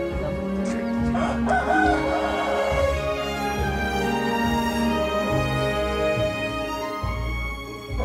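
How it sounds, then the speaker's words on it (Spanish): Rooster crowing loudly and nearby at a humble rural home in the Ejido Benito Juárez El Plan near Tacaná volcano in Chiapas, its drawn-out crow rising over steady background noise. "Hay un gallo."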